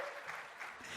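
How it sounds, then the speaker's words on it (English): An audience applauds at the NAGLREP 2018 event in Palm Springs, a soft, continuous wash of clapping heard from a distance with faint voices mixed in. "This is where you applaud."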